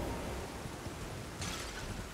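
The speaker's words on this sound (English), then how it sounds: "Oh, it's raining." Steady rain downpour in the video game Elden Ring DLC, a dense continuous hiss filling the soundscape, with a brighter surge of heavier rainfall near the end and no talking.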